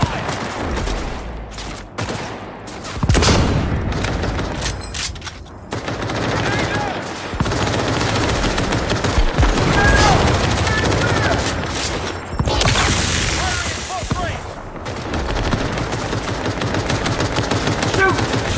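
Gunfire erupts in Cyberpunk 2077 in rapid automatic bursts and single shots, loud and close and nearly continuous, with brief pauses and combat sounds in between.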